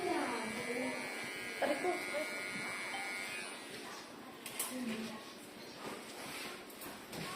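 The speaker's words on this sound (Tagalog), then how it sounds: "May nag-aahit ang kilikili." An electric razor drones steadily while shaving armpit hair, a continuous close buzz with a few louder bumps, running under people talking.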